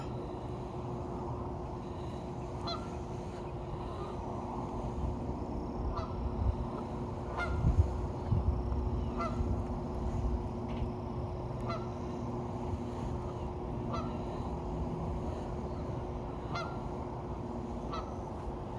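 Repeated honking calls of waterfowl by a backyard pond, scattered through a steady outdoor background hiss, moderately distant, with no talking.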